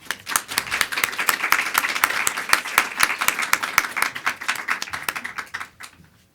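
Sustained applause from an indoor audience welcoming a speaker at a Conservative Women's Network event, dense clapping building quickly, holding for several seconds, then fading out.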